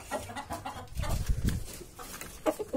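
A hen on a poultry farm clucks in short, soft bursts close by, with low fowl murmurs between calls and no talking.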